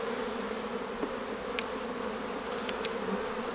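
A dense swarm of honeybees hums steadily around an opened hive during a weekly inspection as frames are pushed together with a hive tool, the buzz loud and close, with occasional sharp faint clicks over the drone.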